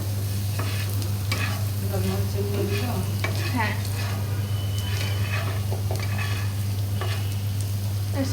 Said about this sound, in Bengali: হালকা একটু পানি দিয়ে ভাজার জন্য মশলাটা